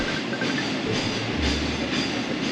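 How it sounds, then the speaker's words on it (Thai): A train rolls through Nong Pho railway station in Thailand, with steady, loud rumbling and clattering wheels close by, and no voices. "ผมก็มาถึงสถานีรถไฟหนองโพแล้วนะครับ"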